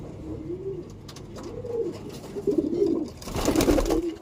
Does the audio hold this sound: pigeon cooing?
yes